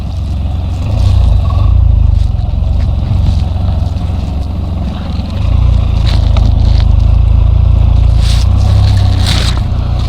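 A Can-Am Spyder three-wheeled motorcycle setting off on a cross-country road trip, a loud, close, deep engine drone that rises as it pulls away, steady rumble with wind noise, no talking.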